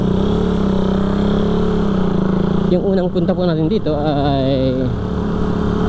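A motorcycle engine hums steadily while riding, a continuous low drone running throughout, with someone speaking briefly over it midway.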